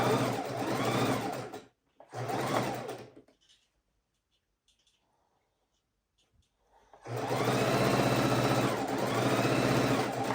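A sewing machine stitches a row of a pastel house quilt while borders are being added, running in two quick bursts, pausing for several seconds, then resuming in a long steady run, close and loud.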